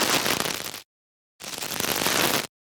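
High-frequency crunch layer for a fire magic spell sound design: two loud bursts of dense, crackling noise separated by a short silence, the second burst longer than the first.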